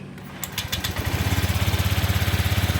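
A Honda Vario scooter engine is started after the workshop was flooded, cranking briefly and then settling into a steady, close, loud idle with an even pulsing beat.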